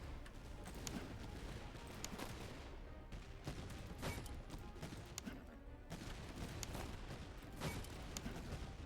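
Rolling musket volley fire from Napoleonic-era infantry in the Master of Command strategy game, a steady crackle of overlapping gunshots with sharper bursts at intervals under a continuous battlefield din.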